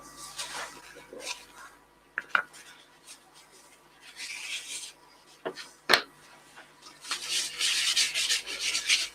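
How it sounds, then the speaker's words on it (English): Yorkshire grit rubbed by hand onto a turned wooden vase on a stationary lathe, heard as soft intermittent rasping and scrubbing strokes, with a few sharp knocks, growing denser and louder toward the end. "Get the Yorkshire grit rubbed on while the lathe is stationary."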